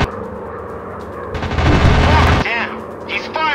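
Rapid machine-gun fire from a WW2 dogfight video game roars in a dense burst midway, surrounded by engine drone and other game effects, with voices partly over the mix.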